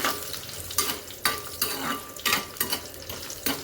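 Coriander seeds and about ten red chillies dry-roast in a pan for Andhra gongura pachadi, with a steady rustling scrape from repeated stirring and sharper utensil strokes against the pan at irregular intervals.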